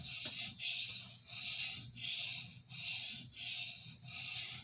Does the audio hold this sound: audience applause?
no